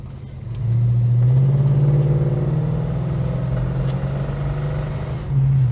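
A steady Holden HK car engine running close by, a low continuous hum with a slight rise near the end, no voices.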